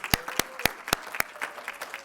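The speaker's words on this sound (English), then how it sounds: "let's give our contestants another round of applause" Scattered applause from an audience at a student public speaking showcase, a handful of distinct loud claps spaced out unevenly and fading into lighter sparse clapping.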